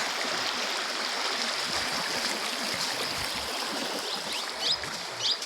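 A river crossed on foot beside a collapsed bridge rushes steadily and loudly with a dense, even wash of flowing water, close by and unbroken throughout.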